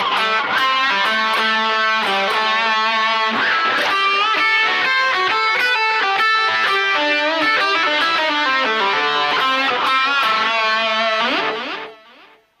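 A distorted electric guitar plays a solo in A, with fast runs of notes and double stops, loud and continuous until a quick fade at the end, alone without voices.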